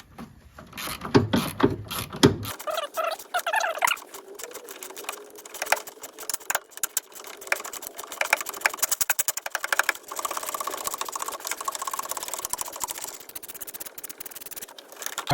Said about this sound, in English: I'm going to flip my ratchet the other way and actually thread it back in a little bit to break the rust loose